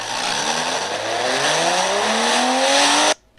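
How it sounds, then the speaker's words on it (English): A car standing in for the Batmobile revs up through rising engine tones, climbing steadily in pitch as it shifts and speeds away, loud and close, then cuts off abruptly to near silence. "Batman quickly shifts the Batmobile into gear and starts speeding off."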